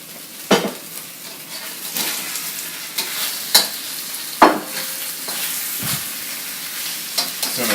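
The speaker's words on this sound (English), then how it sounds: "Let's add our bok choy. Give it a little bit more oil." Chicken and bok choy stir-frying in oil in a pan, with a continuous sizzle broken by sharp scrapes and clanks of a utensil against the pan every second or two, close and loud.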